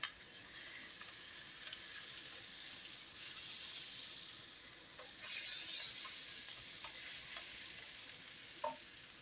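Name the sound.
onions frying with turmeric powder being stirred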